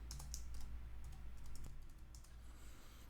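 Quick clusters of clicky keystrokes tapped on a computer keyboard during screen editing work, close and fairly quiet, with irregular bursts and short pauses and no voices.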